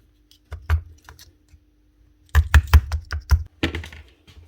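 Milwaukee SDS drill's tool holder being clicked back into place during a repair, heard as a run of sharp close plastic-and-metal clicks and snaps in quick bursts, with a few scattered taps before them.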